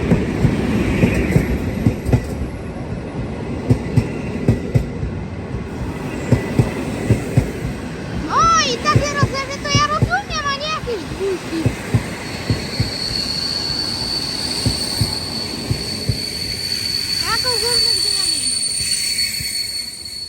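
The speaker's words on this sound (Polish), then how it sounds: "Wjeżdża pociąg osobowy ze stacji Gliwice do stacji Zawiercie." A passenger train from Gliwice to Zawiercie in Poland rolls past on the rails with steady rhythmic clacking and wheel noise, plus a brief squeal of wheels partway through.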